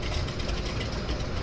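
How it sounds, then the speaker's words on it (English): A de Havilland Beaver seaplane's radial engine idles and putters at Vancouver's downtown harbour airport, a steady low rumble with a faint rhythmic throb, continuous and moderately distant with no talk. "Thought I heard a Beaver puttering to life."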